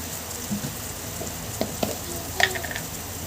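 Onions with a little salt frying in a pan for egg curry, a soft continuous sizzle with a few scraping stir strokes and light pops, close and fairly quiet.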